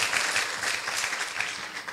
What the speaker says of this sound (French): je vous demande d'applaudir Alexandra.